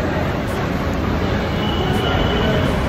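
Metro train at INA metro station in Delhi, a steady loud rumble of rail transport with a constant high whine, continuous throughout with no speech.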